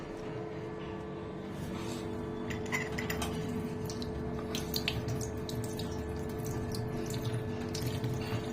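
Bael leaves being rinsed in water, a steady running, trickling wash with faint drips and small splashes under a constant low hum, close by, no talk.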